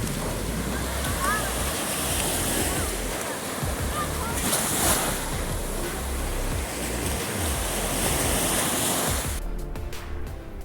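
Ocean waves washing onto a beach, a continuous rush of surf with wind buffeting the microphone, fairly close and steady throughout.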